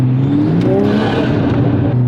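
A 350 sports car drives past on the road, a loud, steady engine drone with a slight rise in pitch, close by and alone.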